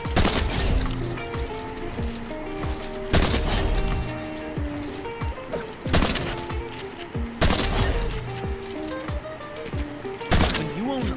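Video game gunshots fired at a practice sentry during a controller drill, a handful of sharp, loud cracks spaced a few seconds apart, each with a ringing tail, over busy game sound.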